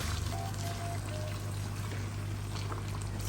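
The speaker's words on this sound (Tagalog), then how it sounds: "Tutubigan na natin siya ngayon." Water pours steadily into a cooking pot of beef sinigang with taro, a close, continuous gushing stream heard alone for about three seconds.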